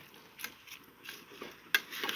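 Rice, lentils and mixed vegetables are stirred and sautéed in a rice cooker for vegetable khichuri, with faint intermittent scraping of a spoon against the pot over a soft, quiet sizzle and no voices.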